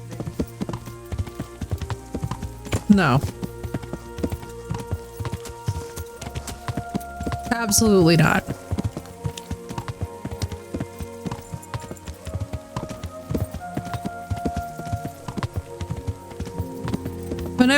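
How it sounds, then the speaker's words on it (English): A slow horse in Kingdom Come: Deliverance clip-clops along at a steady walking rhythm, the hoofbeats close and distinct, while someone speaks briefly over them and a couple of louder sounds stand out. "this horse is absolutely the slowest"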